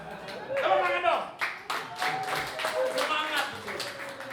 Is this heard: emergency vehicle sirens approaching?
no